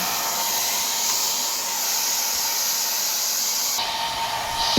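A hair dryer blows a steady, loud, close whoosh while drying a Persian cat, then shifts abruptly to a lower setting near the end, with no voices.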